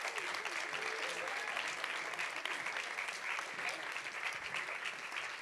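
An audience at a youth vocal performance event applauds continuously, a dense, steady wash of many hands clapping at once, with faint voices mixed into the crowd.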